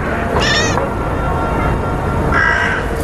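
A cat gives two short, loud meows about two seconds apart, heard over a steady dense background hiss with no talking.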